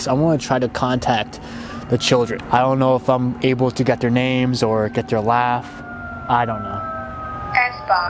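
An emergency vehicle siren rises and falls in the background beneath a man's close, continuous talking at night on a hilltop by a cemetery, with a few clicks and thumps.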